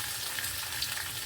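Okra fries lightly in oil in a pan, a close, even sizzle with a faint crackle and a soft stir, no voices.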